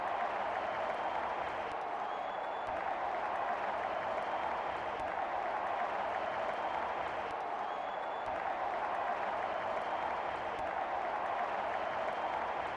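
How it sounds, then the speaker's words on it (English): A virtual stadium crowd in an India versus England cricket video game cheers and applauds in a constant, even wash of noise at moderate volume, with no breaks or surges. "Crowd going mad here."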